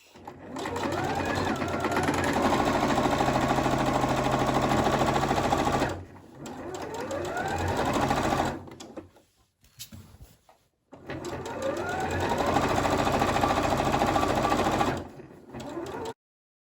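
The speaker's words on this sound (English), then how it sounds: "So I've got this sort of ready in place to sew, so make sure you do a sort of back stitch at the top and the bottom" A sewing machine runs a straight stitch through lightweight summer top fabric, with steady loud motor whirring in two long bursts separated by a short pause and a brief backstitch stop, near and alone.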